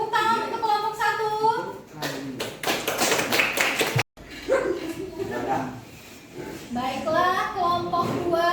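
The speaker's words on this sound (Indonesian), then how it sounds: "Kasih tepuk tangan untuk kelompok 1" Classroom applause for a student group, a dense burst of clapping from many hands lasting about two seconds amid children's voices and talk, ending abruptly.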